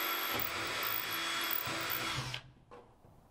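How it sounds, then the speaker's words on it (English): A power drill bores holes through a camper van roof to mount a solar panel, a loud steady high-pitched whine for over two seconds before stopping abruptly, followed by a brief second burst. "I drilled it from the underside so I could make sure it was centered on the rafter"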